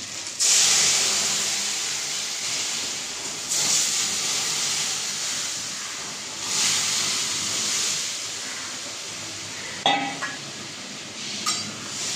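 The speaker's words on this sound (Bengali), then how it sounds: "তো আমার ডালটা আমি দিয়ে দিচ্ছি।" Dal poured into a hot pan with ginger sizzles in a loud, steady hiss that swells a few times, with a couple of brief metallic clinks near the end.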